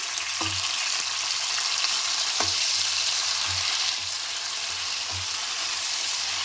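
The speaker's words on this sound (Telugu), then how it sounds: "ఇప్పుడు మనం ఉడకబెట్టుకున్న క్యాలీఫ్లవర్ ఉంది కదా ఇది దీంట్లో వేసేసుకొని కొంచెం ఫ్రై చేసుకుందాం" Boiled cauliflower frying in hot oil in a pan, a continuous bright sizzle with occasional knocks of a spoon stirring, steady and close, no voices.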